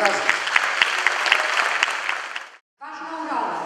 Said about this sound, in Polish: Wielkie brawa dla piłkarzy.